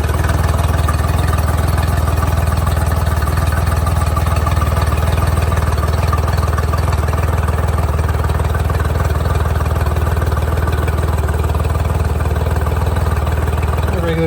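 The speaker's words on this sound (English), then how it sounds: "Now let's turn this motor on and make sure she's running right." A motor runs steadily after its fuel priming bulb was replaced, a loud, constant engine drone that holds throughout with no breaks or revving.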